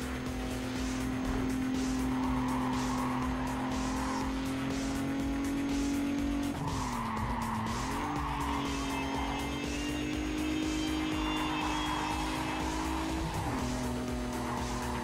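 Race car in Need for Speed Carbon accelerating hard, a loud sustained engine drone that climbs through the gears with short pitch drops at shifts, tire squeal and skidding mixed in, steady throughout.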